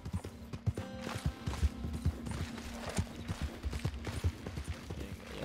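Horse hooves clip-clop in a steady trotting rhythm in the Western game Red Dead Online, loud and close under a dense bed of game ambience and creaking tack, with a brief whinny-like tone.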